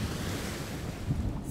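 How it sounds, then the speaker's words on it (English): Stormy sea with waves surging and wind gusting, a steady dense roar with low rumbling swells rising briefly near the end, heavy wind buffeting, no voices. "The waves were crashing. The wind was howling."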